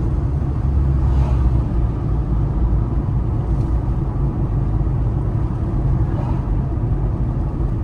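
A car drives along a city street in Taraz, Kazakhstan, on a hot August day, its steady engine and road rumble loud and continuous throughout.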